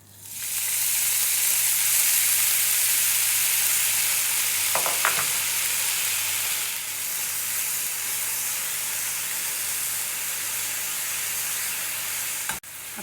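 Fenugreek leaves go into hot oil already tempered with cumin and sizzle loudly in a steady, dense hiss, with a couple of brief clinks partway through.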